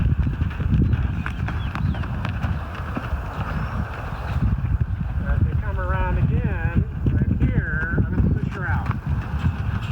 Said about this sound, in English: She's galloping on the left lead.